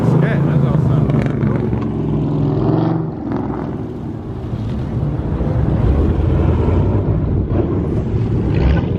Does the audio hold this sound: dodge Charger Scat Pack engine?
yes